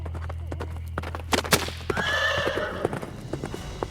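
Horses whinny while hooves clip-clop at a gallop over cobblestone streets, a drawn-out neigh rising in the middle over steady, close hoofbeats.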